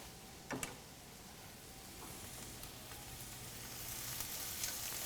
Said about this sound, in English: So we're going to add in about a cup of green onions to about half a cup of sun-dried tomatoes.